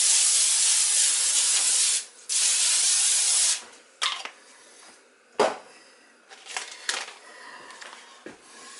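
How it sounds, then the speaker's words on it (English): Two long bursts of hissing aerosol cooking spray, coating chicken and fries, close and loud, followed by softer rustling and handling noises. "We'll coat both of these good with the Pam spray so they don't stick."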